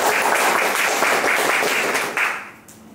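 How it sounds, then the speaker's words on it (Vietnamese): Seminar audience breaking into loud, dense applause that holds steady for about two seconds, then thins out and fades away. "nếu anh chị thấy mô hình này tuyệt vời thì cho một tràng pháo tay thật lớn ạ"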